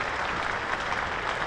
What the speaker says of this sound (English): that applause is for the Hampshire 200 for 3